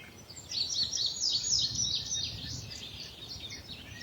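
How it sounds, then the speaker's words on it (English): Birds sing and chirp continuously in the distance, a busy layer of high tweets over a soft, low background rumble. "Listening to the birds"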